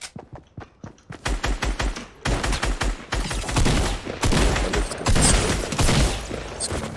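A fast-firing tactical assault rifle in a video game shoots in rapid bursts, starting with sparse shots then building into dense, loud, continuous automatic fire, with no one talking.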